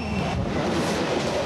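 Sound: train running on rails

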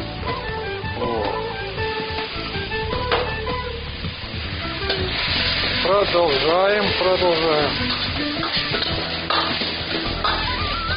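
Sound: stirring paella vegetables in a pan

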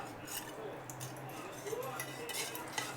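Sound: stirring fruit salad into milk

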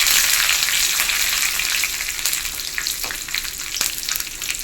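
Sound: dried red chillies and curry leaves frying in oil

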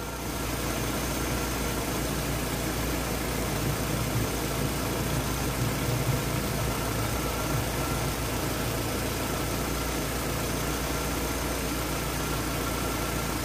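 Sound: car engine idling

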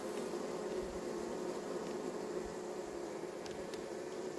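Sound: honeybees humming

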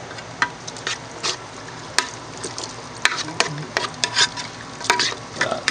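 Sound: stirring canned pinto beans into green chili in pot

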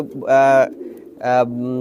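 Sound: old-breed Khulna homing pigeons cooing

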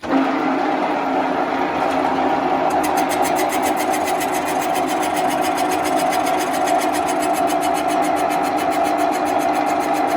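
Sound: cylinder boring machine running at 400 rpm

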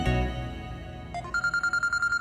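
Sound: mobile phone dialing a call

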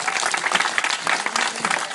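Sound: audience applause

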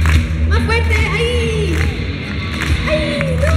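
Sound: audience clapping along at a concert

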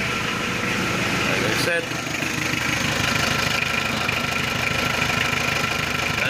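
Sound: Mitsubishi 4D56 engine starting and idling after starter solenoid replacement

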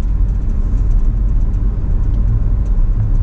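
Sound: car driving on road

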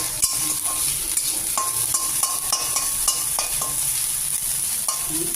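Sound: small dried fish frying in oil

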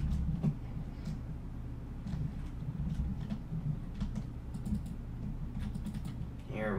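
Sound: typing on a computer keyboard

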